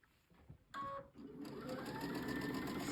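A sewing machine stitches a quilt seam, with the bulky quilt fed across a table. After a brief start and pause, the motor runs up to a steady, fast, close mechanical whir with rhythmic needle clatter that carries to the end.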